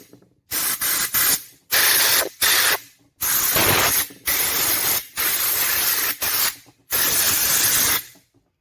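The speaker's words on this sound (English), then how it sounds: "So let me just try to blow those wires out." Bursts of compressed air blast dust from the stator wires of an angle grinder under repair, about eight sharp, loud hissing spurts of uneven length separated by brief silences.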